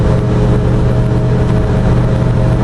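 LS3-engined Jeep accelerating hard, a loud, dense, continuous engine roar with a steady low drone and no pauses, heard from inside.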